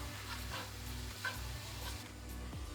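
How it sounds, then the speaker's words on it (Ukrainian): Zucchini and lemon linguine sauce is being stirred in a frying pan, with quiet scraping strokes repeating at a steady pace over a soft sizzle and a low background hum. "гарно перемішуємо і додаємо половину цедри лимона. і гарно перемішуємо."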